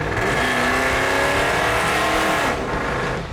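An old rig's loud engine revs hard and close, a dense roaring drone that rises in pitch and holds for about two and a half seconds before easing off.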